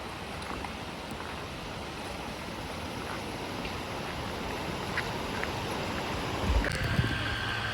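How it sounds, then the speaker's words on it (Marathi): Strong water flow churns during heavy monsoon rain at the Saguna Baug agro-tourism resort, a steady, loud, unbroken rushing roar that fills the whole stretch with no voices over it. "पाण्याला फोर्स खूप आहे बघू शकता"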